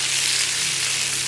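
Food sautéing in a pan after chilli powder and turmeric are added while cooking chicken fried rice, with a continuous loud hiss of sizzling oil and no voices.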